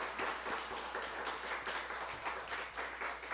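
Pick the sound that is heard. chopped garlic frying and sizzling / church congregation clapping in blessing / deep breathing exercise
church congregation clapping in blessing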